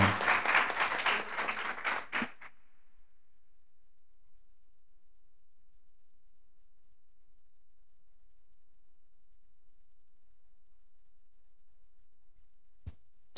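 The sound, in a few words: audience applause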